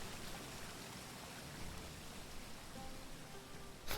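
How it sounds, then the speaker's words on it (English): A waterfall sound effect from the Swiftwater Cliffs card in MTG Arena plays as a steady, even rush of water for about four seconds, low in level and uninterrupted, ending with a brief brighter burst. "That is a long sound animation for Swiftwater Cliffs. It was like a good 4 seconds of the waterfall noise."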